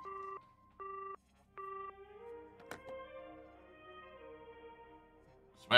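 Telephone keypad dialing in the video game Nine Witches: Family Disruption, three clear tonal beeps for key presses, then a ringing tone and a sharp click, with a brief noise at the very end.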